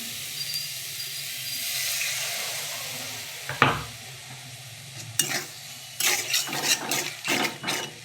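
Tomatoes with salt are sautéed in a pan, a gentle steady sizzle followed by bursts of close, scratchy spatula stirring against the metal toward the end.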